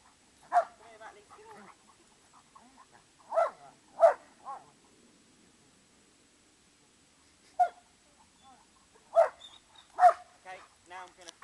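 German shepherds barking while playing, several sharp single barks and yips spread out over the stretch with quiet gaps between them, fairly close, with a little soft whining in between.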